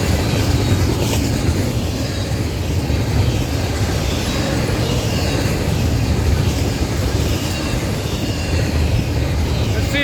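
A long FEC freight train with manifest and garbage cars rolls past in St. Augustine, Florida, a loud, continuous low rumble of wheels and cars with steady clatter throughout, no talk.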